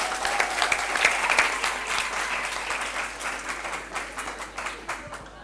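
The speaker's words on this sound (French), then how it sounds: "Applaudissez encore très très fort pour eux." A crowd at a high school quiz competition applauds steadily, a dense wash of clapping that holds strong throughout and fades slightly toward the end.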